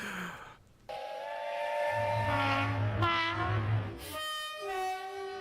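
A train horn sounds as an effect opening a segment of a gaming podcast, with sustained whistle-like tones and a low rumble running steadily for about five seconds, fairly loud and alone without talk.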